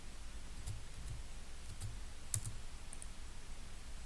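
Several faint, sparse mouse clicks from a computer running AutoCAD, scattered singly across a quiet room with low background hum and no talking.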